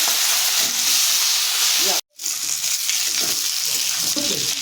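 Green chili and black cumin frying in hot oil for an eggplant, potato and hilsa fish curry, a steady close sizzle that cuts out briefly for a split second and then resumes just as loud.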